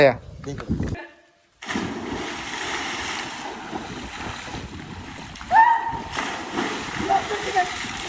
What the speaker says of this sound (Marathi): पहिली उडी मारली नंतर भैयाने मारली